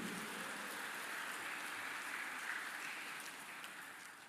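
A church congregation applauding for the organizing committee, a steady, faint wash of many hands blended into a dense rain-like hiss that slowly fades out.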